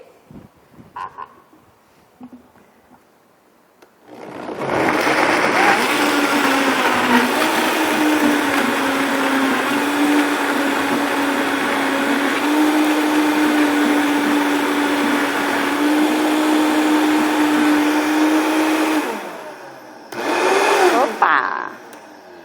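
A Vitamix blender whirs loudly and steadily for about fifteen seconds, blending coconut and water into milk, with its motor pitch shifting slightly partway through, then stops before a brief second burst.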